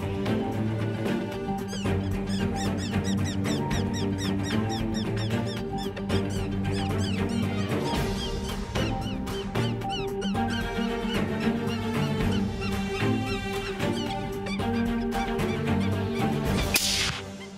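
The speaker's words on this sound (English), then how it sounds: "heard that prey distress sound and was coming in to try to take the free meal" An electronic predator call plays a squeaky prey distress sound during a Pennsylvania coyote hunt, a dense, continuous stream of shrill squeals and chirps that stays loud and steady throughout with no talking.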